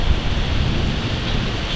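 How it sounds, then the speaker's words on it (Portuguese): Heavy rain pours down in Rio Grande during a storm, a loud, steady broadband roar with some wind buffeting, unbroken for the whole moment. "olha como que tá a chuva aqui fazendo Rio Grande"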